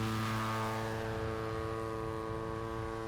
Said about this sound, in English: Now with that little bit of down thrust added to the DA35, we'll see how the plane acts.